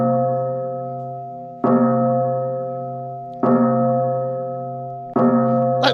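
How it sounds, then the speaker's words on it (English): A bell rung three times during a live stream, each strike loud and ringing with a long sustained tone that slowly decays before the next, at roughly two-second intervals, with no talk over it. "Let's ring the bell"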